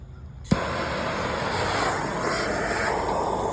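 A handheld torch ignites with a sharp pop and then roars steadily at close range, lighting a fire starter beneath the charcoal basket of an outdoor offset smoker.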